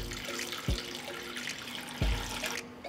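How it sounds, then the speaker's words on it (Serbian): Water runs steadily into a cooking pot holding glass jars, a continuous close splashing stream with two soft low thumps. "I zatim ću sipati vodu u šerpu do visine poklopca."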